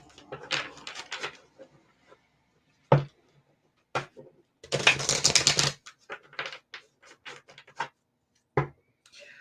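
Tarot cards being shuffled at a live tarot reading, crisp papery riffles and taps in short bursts with one longer dense flutter, close and fairly loud, with pauses between.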